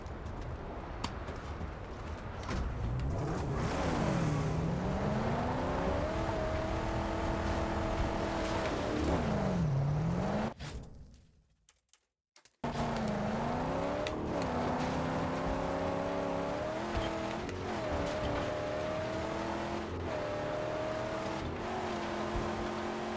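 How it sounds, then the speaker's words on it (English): Car engine revving and shifting in the Mad Max video game, a loud continuous roar rising and falling in pitch through gear changes, cutting out briefly midway before resuming with sustained throttle. "Ah, the engine sounds are great."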